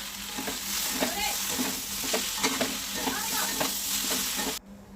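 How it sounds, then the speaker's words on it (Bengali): Dried fish curry with turmeric and salt is stirred in a hot pan, bringing a continuous frying sizzle with repeated scraping strokes of the spoon. The sound cuts off abruptly near the end. "সব একবারে ভালো করে নেড়েচেড়ে একটু ঢেকে দেবো।"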